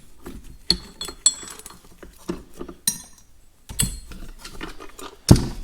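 Two bolts are removed from the extension housing on top of a Farmall tractor using a ratchet, giving close sharp clicking bursts and metallic clinks spaced across several seconds.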